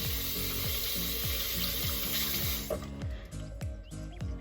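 Warm water runs from a tap into a sink for foaming up face cleanser, a steady hissing splash with a rhythmic periodic pulsing that stops partway through, leaving quieter drips and handling sounds.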